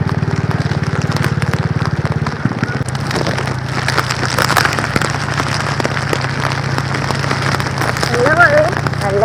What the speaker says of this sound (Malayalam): നല്ല മഴയായിട്ടാ.